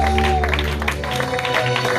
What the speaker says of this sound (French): Maintenant, tu vas acclamer Jésus, le roi de gloire.